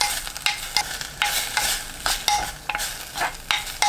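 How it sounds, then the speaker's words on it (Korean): Dried pollock stir-frying in perilla oil in a pan over medium heat, a steady bright sizzle broken by frequent scraping stirs, close and alone with no voices. "팬에 들기름 1큰술, 황태 넣고 중불로 1분 30초 볶습니다."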